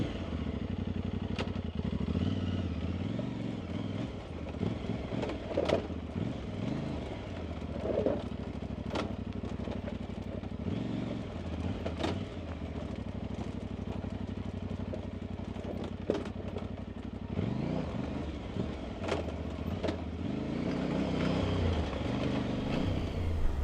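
Tuareg 660 motorcycle fitted with a Motoz Tractionator RallZ rear tire descending a rough dirt hill on a Colorado desert trail, its engine droning steadily with dips and surges, clattering over rocks throughout.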